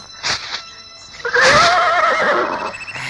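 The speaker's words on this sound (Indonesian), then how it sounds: "Eh, kuda dungu, ayo jalan." A horse gives one loud, close, drawn-out whinny that rises and wavers, preceded by a couple of short scuffing noises.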